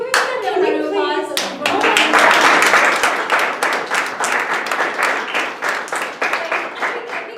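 An audience bursts into loud, sustained applause with dense, rapid clapping that fills the room after a brief bit of talk at the start, then keeps going at a steady level.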